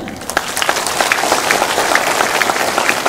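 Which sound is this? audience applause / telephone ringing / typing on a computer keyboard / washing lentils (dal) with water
audience applause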